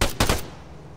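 Two or three rapid, loud gunshots ring out in a video game police roleplay. They come in a quick burst and then fade into a short decaying tail.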